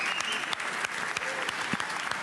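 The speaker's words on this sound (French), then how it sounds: "Un tonnerre d'applaudissements pour lui." Dense applause from an audience greeting a young football player, a steady wash of many hands clapping with scattered sharper claps, moderately loud and continuous without talk.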